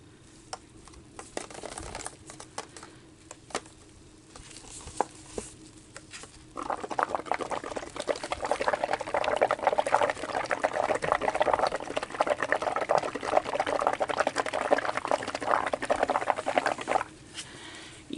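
Liquid leather dye bubbling over veg-tan leather, a soft patter of tiny popping bubbles. It is faint at first, then becomes a denser, louder fizz in the middle stretch before it tails off.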